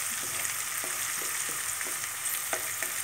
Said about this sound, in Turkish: Şimdi soğanlarımızı güzelce kavuruyoruz.